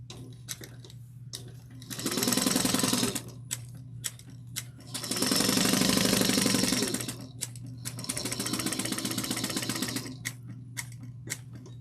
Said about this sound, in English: sew your zipper lining using a 1/4 of an inch seam allowance.